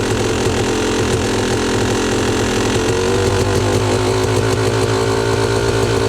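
A Yamaha YZ250 two-stroke dirt bike engine holds a high idle, a loud buzzing, crackling drone close up that rises slightly in pitch partway through and stays steady, with no talk.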